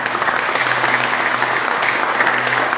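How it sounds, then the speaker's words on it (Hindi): A worship congregation in Budapest, Hungary, claps together in a dense, steady burst of applause that carries evenly from start to finish. "Can we clap for the Lord?"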